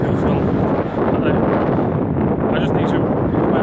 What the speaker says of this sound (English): God, it's so freaking windy.